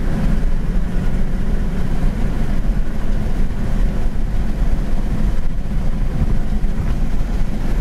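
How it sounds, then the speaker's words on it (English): 1967 Ford Mustang with a 289 two-barrel V8 driving down a road, heard as a steady dense rumble of engine, tyres and wind, continuous and fairly loud with no talk. "289 two barrel, but with the transmission shifting the way it should, running good, really gets down the road nicely."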